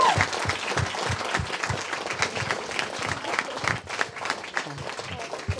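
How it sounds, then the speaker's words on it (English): Guests applaud after a speech at an event, a lively round of clapping with distinct close handclaps in a steady rhythm and some background chatter mixed in. "So just a big round of applause for her"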